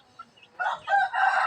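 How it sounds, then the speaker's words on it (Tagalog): A rooster crows loudly and close by in one drawn-out call, with quieter clucking and bird noises just before it. "meron tayo dito rin ng mga manok"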